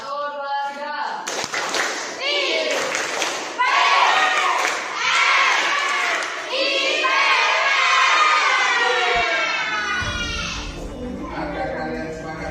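Schoolchildren in a classroom do the IPS clap chant together, a loud near crowd of young voices chanting and shouting in unison with rhythmic clapping running through it.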